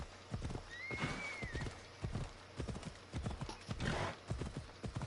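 Horse hooves clip-clop at a steady trot in Assassin's Creed Odyssey, close and rhythmic, with a brief whinny early on and faint talk underneath.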